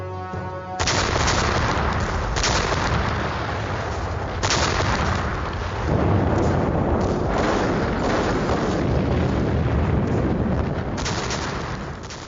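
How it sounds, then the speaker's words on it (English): Soviet Red Army artillery bombarding German positions in Belarus in 1944, a dense, continuous roar of overlapping booms and blasts, loud and sustained throughout with no talk. "the guns of the Red Army began a ferocious bombardment of German forces"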